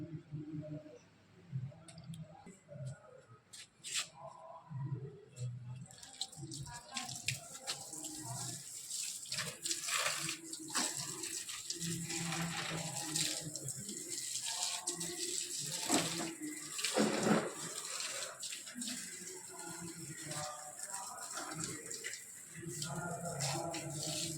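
Water splashes and trickles steadily for a long stretch onto potted plants, a close, continuous pouring and spattering sound with occasional soft clicks.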